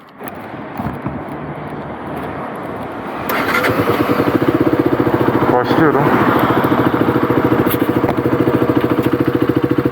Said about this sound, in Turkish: Şu an zaten sesi alıyorsanız çok fazla egzoz sesi geliyor.